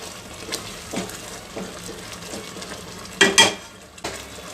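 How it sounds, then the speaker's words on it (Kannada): Masala with garam masala and turmeric sizzles steadily in a pan over a medium flame for methi paneer gravy, with a few louder stirring scrapes near the end. "ಈಗ ಮೀಡಿಯಮ್ ಫ್ಲೇಮ್ ಇಟ್ಟು ಇದನ್ನು ಒಂದೆರಡು ನಿಮಿಷ ಬೇಯಿಸಬೇಕು"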